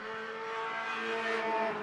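Race cars roar around the track in a short-track heat race, a steady dense engine drone with harmonic whine rising slightly toward the end, loud and continuous with no talk.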